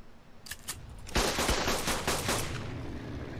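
Automated auto turrets in Ark Survival Evolved open fire on a Rex. A couple of early shots are followed by a dense, continuous rattle of rapid gunfire that carries on loudly until the end.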